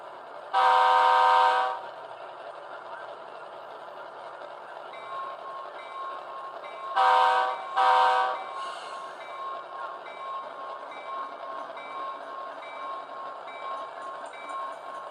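A Walthers Mainline model locomotive's deep DCC sound-decoder horn blasts twice in a short burst through a replacement speaker, then two more blasts later, with a steady mechanical hum running underneath throughout.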